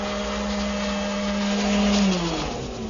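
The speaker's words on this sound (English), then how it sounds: "The rest of the profile is milled using my router shaper table" A router shaper table fitted with a 3/8 inch bead concave cutter mills a base molding profile, giving a steady loud motor whine with a high cutting tone that drops in pitch near the end of the pass.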